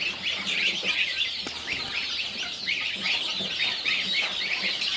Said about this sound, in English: quail are crowing like crazy